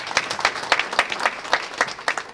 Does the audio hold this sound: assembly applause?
yes